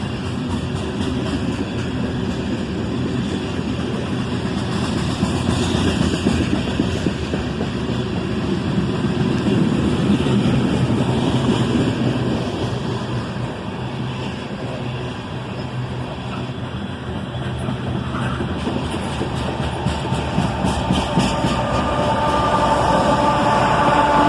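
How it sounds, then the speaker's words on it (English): A freight train hauled by ES-44 ACH locomotives rolls past with its covered hoppers, a steady loud rumble and rattle of wheels on rail that runs on without a break, with no voices. "there's the second locomotive, going backwards on the rear of the train. Another ES-44 ACH"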